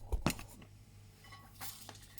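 Metal cutlery is handled on a table, with a couple of sharp clinks near the start followed by quiet, faint rustling.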